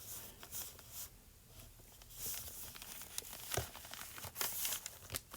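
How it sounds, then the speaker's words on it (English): Crinkly paper for a junk journal is handled up close, with irregular crackles and rustles that come in bursts and bring a few sharper crinkles. "sound of crinkly paper."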